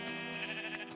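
Minecraft sheep bleating in the video game: one sustained, wavering bleat, close and fairly loud, with harmonic bands over a steady game background and no talking.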